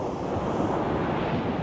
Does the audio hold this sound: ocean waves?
yes